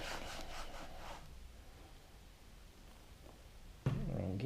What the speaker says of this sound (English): Just rub it in, work into a lather until it's all absorbed into it.